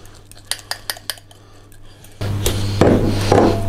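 Sausage roll stuffing mix spooned out onto a plate: a few sharp metal spoon taps and clinks against a pan or plate, then a louder stretch of scraping and soft clattering as the mix is pushed out, with no talking.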